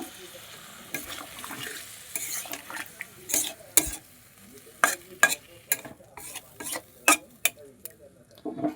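Beans frying in a pan with sesame and cashews as water is poured in, a low sizzle running under sharp repeated scrapes and knocks of a stirring spoon against the pan, irregular and close.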